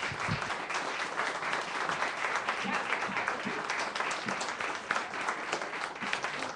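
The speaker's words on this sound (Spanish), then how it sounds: "Vamos a darle un aplauso al Señor" A church congregation applauds in praise, a dense, steady wash of many hands clapping close by for several seconds with no break.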